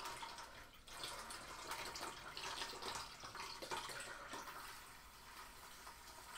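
Water rushes and gurgles through a hose siphoning sand out of an aquarium into a bucket, a close, continuous splashing flow with uneven surges and no talking.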